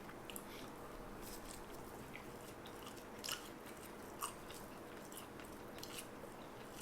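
Quiet, close chewing of a homemade Egglife-style egg wrap, soft mouth sounds running steadily under a faint background hiss, with a couple of slightly louder bites near the middle and no talking.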